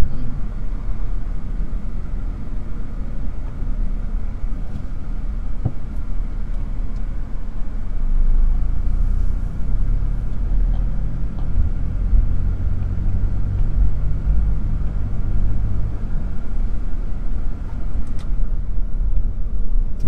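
A car engine rumbles continuously and loudly, with a low droning throttle swell through the middle and no talk over it.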